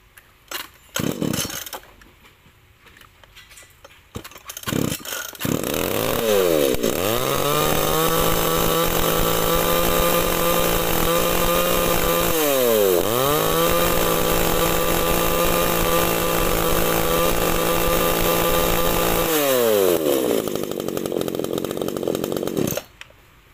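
A Tanaka T20 33cc chainsaw with a 37 mm cylinder and chain brake starts up, then runs at a loud steady high-revving whine, with two brief throttle dips before it cuts off near the end.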